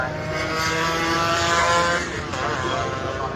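Racing scooter engines at Cadwell Park circuit during a Super Scooters race, a high buzzing engine note rising and falling as machines pass by, with a commentator talking over it.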